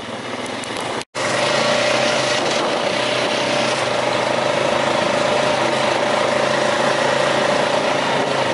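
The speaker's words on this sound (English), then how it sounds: "The engine sounding so loud," A loud automatic vehicle engine drones steadily and close by while stuck, holding a constant pitch with a brief dropout near the start, and no voices.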